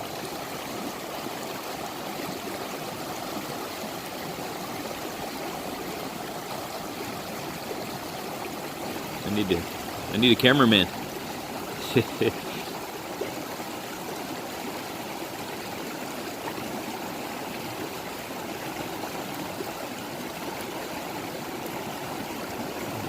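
Water of the East Fork of the San Gabriel River creek flows in a steady, close rushing babble throughout, while someone briefly speaks midway over the stream.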